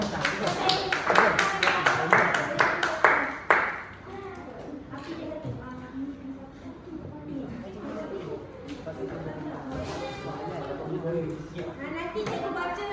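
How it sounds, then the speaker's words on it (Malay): A short round of clapping from a group of children in a classroom, which fades out as chatter and talking continue in a busy room. "beri tepukan untuk Ainis"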